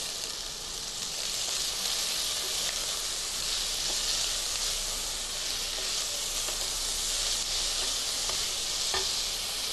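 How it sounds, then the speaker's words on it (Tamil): Black pepper and cumin sautéing in a pan as the base for a soup, giving a steady, close hiss and sizzle that runs unbroken for about ten seconds with no talking. "ஒரு 2 மிளகு, ஒரு 1/4 டீஸ்பூன் அளவுக்கு சீரகம் சேர்த்து வதக்கிட்டு"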